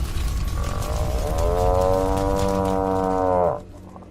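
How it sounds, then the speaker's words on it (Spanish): A deep, intense bull-like moo meant to come from a bronze bull swells and holds for a couple of seconds, then cuts off abruptly, loud and close over a rumbling background. "toda emanación o sonido producido dentro del metálico animal era convertida en un intenso mugido"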